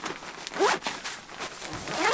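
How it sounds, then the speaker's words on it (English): A zipper on a packed suitcase pulled closed in a couple of quick rasping strokes, close and fairly quiet, with faint rustling between. "I'll pull the second zipper closed."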